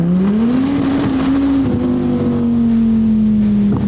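A Lamborghini SVJ engine grumbles deep and loud, idling steadily then rising slightly in pitch before settling, close up with no talking.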